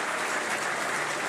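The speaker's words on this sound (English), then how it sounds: "We hear the applause" Sustained applause from a crowd at the swearing-in ceremony of Mark Carney as Canada's Prime Minister, a dense, even roar of clapping with no pauses.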